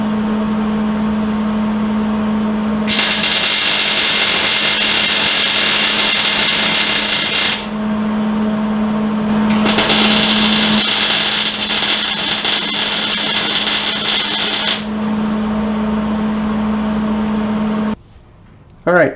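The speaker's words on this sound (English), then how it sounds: "I'm just going to apply a couple welds on both sides, more of a spot weld." A welder crackles in two long sustained bursts while spot welding Johnny Joints onto the upper rear control arm of a 1999-2004 Jeep Grand Cherokee, loud and close over a steady electrical hum, with a short gap between passes.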